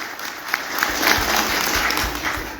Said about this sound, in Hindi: हमारे सर के लिए भी एक बार जोरदार ताली हो जाए